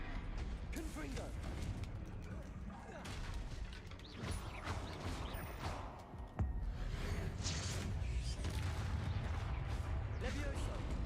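A Confringo fire spell cast during combat in the video game Hogwarts Legacy, with continuous dense magical effects and a sharp explosive burst midway through.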